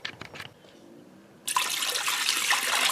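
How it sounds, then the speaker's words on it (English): Water pours into a Ninja Foodi PossibleCooker PRO slow cooker pot, a sudden steady gushing splash that starts after a short quieter moment with a few light knocks and continues loudly to the end. "I'm going to add 2 cups of water first to see how much I need."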